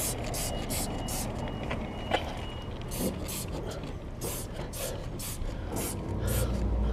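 Several short hissing sprays of cleaner onto a motorcycle chain burst out in quick succession, close by, over a steady background rumble and faint voices.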